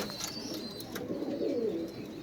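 A male Sialkoti pigeon gives a soft, rolling coo partway through. It sounds faint against a low, steady background hiss.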